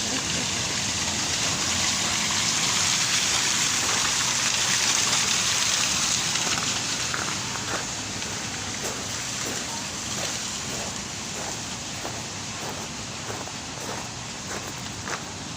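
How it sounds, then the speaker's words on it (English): Steady rain falls outdoors as a dense, even hiss with faint repeated taps and patters, continuing loudly throughout without a break. "it started raining."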